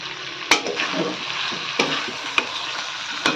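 Chicken frying in a pan while being stirred, with a steady broadband sizzle broken by four sharp spoon scrapes against the metal, close and fairly loud, no voices.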